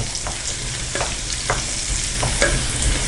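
Garlic sautéing on a low simmer for a Tamil garlic pickle, stirred continuously in the pan: a steady close sizzle broken by regular spoon scrapes about every half second, no talking.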